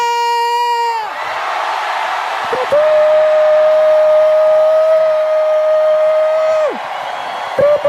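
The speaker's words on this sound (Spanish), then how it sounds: "peguen todo el grito que quieran" A church congregation shouting loudly together during a sermon about the walls of Jericho, a sustained roar of many voices with whoops and screams, close and intense, after a voice at the start.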